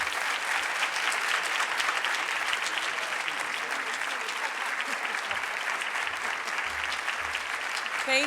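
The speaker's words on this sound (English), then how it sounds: "I just want everybody to just please join me in clapping so loud" Audience at an academic lecture gives steady, dense applause to welcome the speaker. The clapping is sustained and even throughout, with a faint voice near the end.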